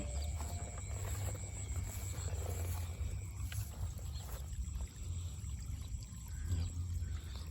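Continuous rushing water, released from a fish-trapping pond, flows steadily with a low churning roar, unbroken throughout and fairly close.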